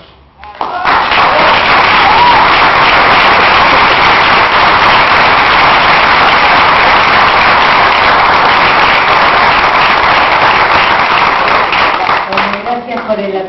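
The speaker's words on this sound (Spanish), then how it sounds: "Gracias por el aplauso" An audience applauds a poem honoring teachers at a Río Negro teachers' protest event, a loud, dense, steady clapping that holds for many seconds before tapering off at the end.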